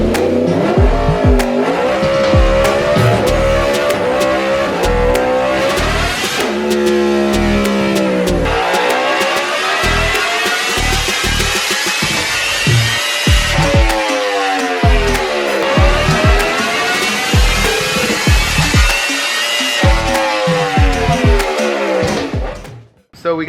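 A 2023 Yamaha R1M sportbike fitted with a Racefit exhaust screams on a dyno, revving loud and close through repeated rising sweeps and sharp throttle blips across the run before cutting off abruptly at the end.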